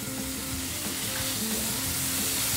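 Butter melting in a preheated pan, a steady, dense sizzle with faint crackling, close and continuous with no talking.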